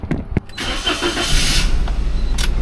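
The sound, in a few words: car engine starting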